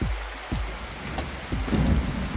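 Heavy rain pouring steadily close by, with dense patter and low rumbling thumps underneath.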